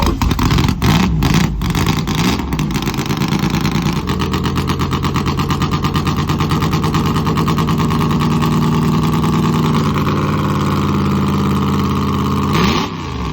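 An old long-bed truck engine roars loudly and steadily after starting, with rough sputters at first, then a sustained heavy rumble and a revving surge near the end.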